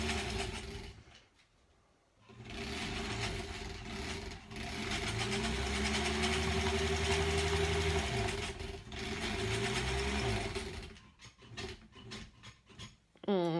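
A sewing machine stitching down a quilt block with Aurifil thread runs in a long steady burst after a brief quiet start, with shorter stop-start runs and pauses toward the end.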